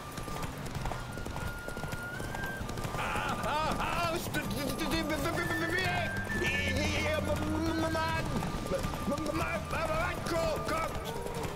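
Horses gallop in a race in the video game The Witcher 3, with steady rapid hoofbeats, occasional whinnies and snorts, and someone talking over them throughout.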